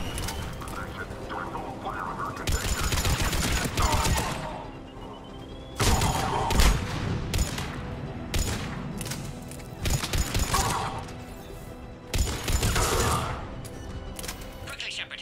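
Gunfire at a Cerberus checkpoint in Mass Effect 3, with bursts of rattling shots and mechanical clatter over a steady battle din and radio-style chatter.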